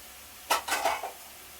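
Spinach and salt are stirred in a pot, making a quick burst of four or five scraping, clinking strokes of a utensil against the pot, then quiet.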